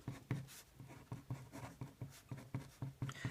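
Hand writing during a math lesson on linear equations, with quiet rhythmic strokes of the pen or marker repeating about every half second, close and soft, with no voices.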